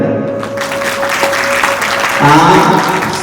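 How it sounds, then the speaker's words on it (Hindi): Audience applause honoring a guest speaker at a Hanuman Chalisa religious gathering, a steady dense clapping that swells louder near the end, with a sustained tone and some voices mixed in. "इनके लिए जोरदार तालियां"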